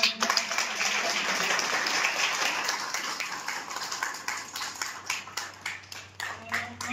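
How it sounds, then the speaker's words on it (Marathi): Loud applause from a crowd at the inauguration of a youth camp, sustained at first and then breaking into scattered claps that fade, with a voice faintly underneath. "त्या जोरदार टाळ्या"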